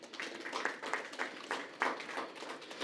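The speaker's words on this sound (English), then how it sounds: "this honor deserves a round of applause" Round of applause at a press conference, a small group clapping in quick uneven bursts, moderately close and fairly light.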